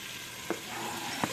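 Bacon and jalapenos sizzle steadily in a pot for corn chowder, a continuous broadband frying hiss with two brief soft knocks of a utensil against the pot.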